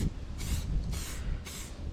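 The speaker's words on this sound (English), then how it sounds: "is put another coat of lacquer on it" Three short hissing bursts of spray lacquer coat a handmade wooden butterfly tree, each lasting about half a second with brief pauses between, close and fairly loud.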